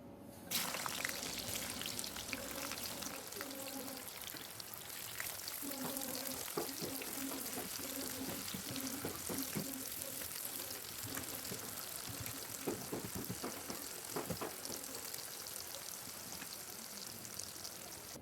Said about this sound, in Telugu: నూనె వేడెక్కాక కాకరకాయ ముక్కలను వేసి బాగా వేయించండి.